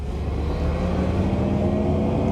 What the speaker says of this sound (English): And we have this spaceship-like sound coming out of it.